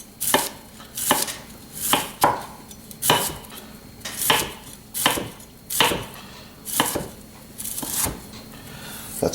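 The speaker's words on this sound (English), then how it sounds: "then I'm going to just do some slices across like this" A knife slices through cauliflower halves on a cutting board in about a dozen evenly spaced, crisp chops, each a sharp crunch with a knock against the board, close and clear with no talking.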